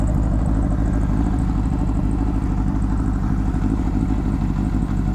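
A barn-find Honda CB750 motorcycle engine runs steadily and loud up close, a continuous rumbling drone with a busy mechanical clatter throughout, no voices.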